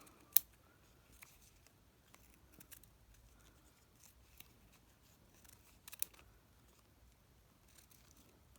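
Scissors trim around a fabric-covered button, making quiet, close snips and clicks scattered irregularly, with a few sharper cuts standing out against near silence.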